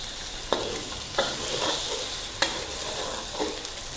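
Eggs frying in a pan with garlic and dried shrimp, a steady close sizzle broken by four sharp spatula scrapes and knocks as the eggs are stirred.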